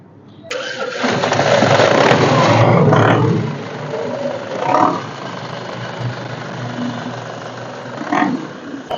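A used Tavera's engine cranks and catches with a roar, then settles into a steady idle with a couple of brief revs, close and loud.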